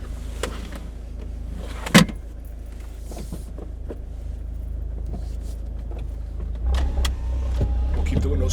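Abarth 124 Spider convertible top lowering at night with the engine idling, a low motor whir building under the rumble with a sharp clack early on and a thud near the end; a voice talks briefly.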